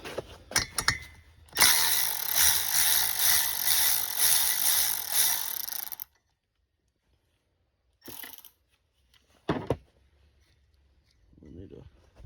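A ratchet working on 13 mm bolts on a 1980 John Deere Spitfire 340 engine during a top-end rebuild, giving a sustained close rapid clicking burst, then brief clicks and short sounds after a pause, with speech around it.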